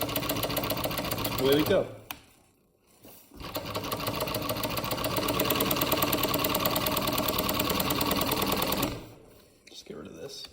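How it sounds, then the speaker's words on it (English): A sewing machine runs through shop towels in a fast, even mechanical patter, stopping briefly before a longer sustained run, while a voice speaks a few words near the pause. "I'm sewing on shop towels that I buy at the hardware store."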